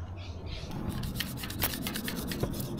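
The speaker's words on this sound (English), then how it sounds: "use this metal spreader to scrape off all the peeling paint from the corners" A metal spreader scraping peeling paint off the corners of a Mazda 323 car body, making quick, rhythmic rasping strokes up close.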